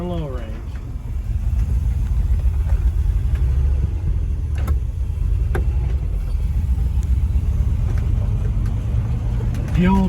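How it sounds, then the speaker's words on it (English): An old International Scout II truck climbs a hill in low range, its engine giving a steady, loud low rumble that holds for the whole stretch, with faint thumps and creaks from the body. "We're gonna climb right up that hill there."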